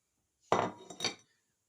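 Rock cake mix with dried mixed fruit and granulated sugar being stirred in a bowl, a short scraping, clinking burst of spoon against bowl lasting under a second, with no talk.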